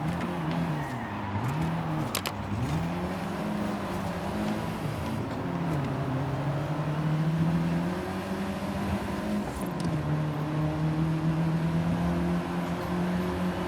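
Car engine in the racing game Forza Horizon 5, a steady droning hum that rises and falls as the car shifts and accelerates, continuous and moderately loud with no talk.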